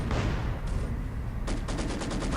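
Su-76 self-propelled gun shelling and gunfire in the winter battle game Company of Heroes 2, a dense rumble of explosions followed by a rapid burst of sharp shots near the end.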